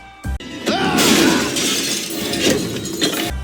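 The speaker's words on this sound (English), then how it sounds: "Roman smashing Tyson into a glass cabinet" Glass cabinet shattering as someone is smashed into it during a street-level fight, a loud impact followed by a sustained crash of breaking glass and tinkling shards, ending with a heavy thud.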